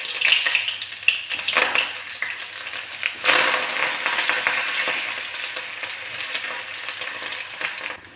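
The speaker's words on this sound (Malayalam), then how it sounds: "ഇനി സവോള ഇട്ടു." Small onions hit hot oil with mustard seeds in a pan and sizzle steadily, with a brief louder crackle partway through. The frying is close and moderately quiet and is heard alone.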